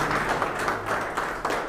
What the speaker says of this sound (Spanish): Fuerte el aplauso para el ingeniero César Cáceres.